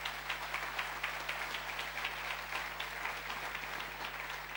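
Sustained audience applause in a conference hall during a climate talk in Bali, a steady dense wash of clapping from many hands with no speech, holding evenly throughout.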